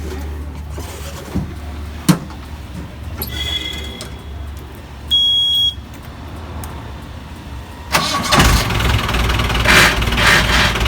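A jeep with a broken clutch disc starts up after a few clicks and bangs, then settles into a loud, close, rumbling idle.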